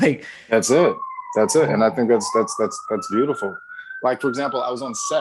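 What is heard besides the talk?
police sirens outside in New York City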